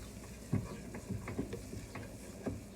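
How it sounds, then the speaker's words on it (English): Flour being stirred into a roux in a pan, a spoon scraping in irregular strokes with soft sizzling underneath, close and fairly quiet, no talking. "That's all we're doing, is stirring it all in."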